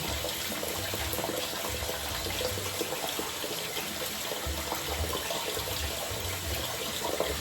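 Tap water runs steadily into a sink during a cleaning job, a continuous close splashing rush with no talking over it.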